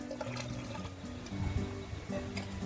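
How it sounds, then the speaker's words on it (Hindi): Half a glass of water poured into a blender jar, a steady close liquid splash and trickle running throughout over low background hum. "पानी डाल दीजिए"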